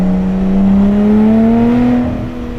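Lotus Exige 380 Cup sports car engine revving up in a long, steadily rising pull heard close from inside the cabin, loud and continuous before easing off near the end.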